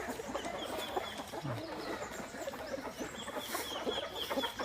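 A Shamo Aseel gamefowl rooster in the Philippines clucks faintly among other chickens, soft scattered clucks over a busy, noisy farmyard background.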